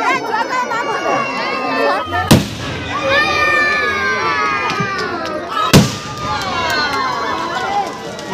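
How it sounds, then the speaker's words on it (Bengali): Fountain fireworks at the Dhamua Tararat Bibimata fair in 2025, with a steady crowd hubbub and two sharp, loud bangs about three seconds apart over constant chatter. "মাঠে আসতে না আসতেই শুরু হয়ে গেল আতশবাজির ঝর্ণা।"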